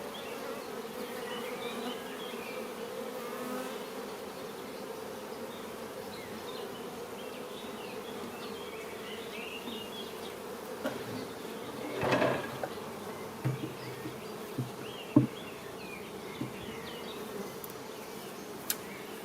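Honeybees hum around an opened hive in a steady, moderately quiet buzz that persists throughout, with a few small knocks and clicks near the end and no talking.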